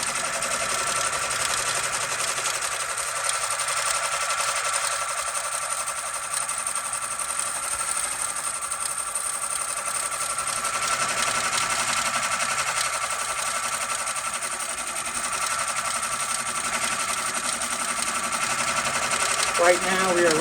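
A Berger embroidery machine stitches a logo at 800 stitches per minute, producing a steady, fast mechanical chatter and drone that holds even throughout, with a voice talking over it.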